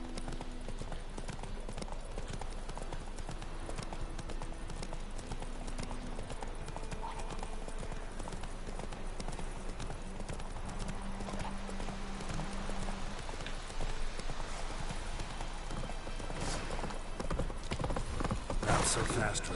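Geralt's horse Roach gallops in The Witcher 3: Wild Hunt, a continuous rapid clatter of hooves under wind and ambient game sound, with voices talking over it at times.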